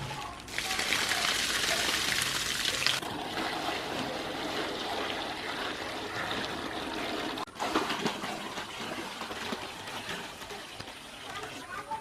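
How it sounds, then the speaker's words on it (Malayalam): Water poured out as a small DIY guppy tank is tipped over, a steady close splashing rush that starts abruptly, then thins into a trickling flow. "നമുക്കിപ്പോൾ ഇതിലത്തെ വെള്ളം ഒഴിവാക്കണം എന്നുണ്ടെങ്കിൽ ജസ്റ്റ് ഇത് ഇങ്ങനെ കണ്ട് മറിച്ചാൽ മതി കേട്ടോ."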